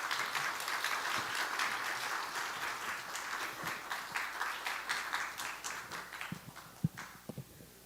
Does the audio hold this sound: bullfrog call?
no